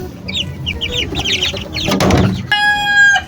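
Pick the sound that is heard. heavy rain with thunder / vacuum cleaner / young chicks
young chicks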